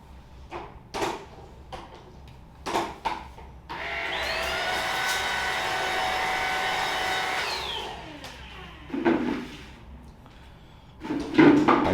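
A Tineco Dash A10 cordless stick vacuum with a brush head whirs loudly for several seconds, its motor ramping up and winding down, between scattered plastic clicks and knocks of handling.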